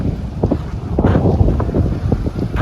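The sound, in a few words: strong wind at Kruger National Park campsite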